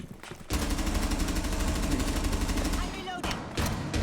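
Rapid automatic gunfire from a video game weapon rattles in a sustained, dense burst lasting a few seconds, followed by shorter bursts, loud and close, with talk mixed in.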